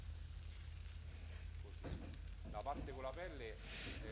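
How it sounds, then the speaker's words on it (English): Skin-on chicken pieces searing in a pan for pollo alla cacciatora, a faint steady sizzle and low hum that continues under a voice in the second half. "let it sear just a little bit, otherwise the skin will shrink"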